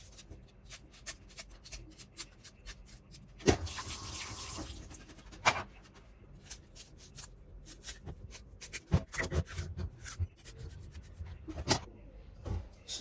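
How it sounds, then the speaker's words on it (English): Knife chopping onions for Nigerian gizdodo, a run of quick, light taps on a board at a steady pace, with a louder scraping rustle partway through, close and with no talk. "So right now I'll be cutting my onions."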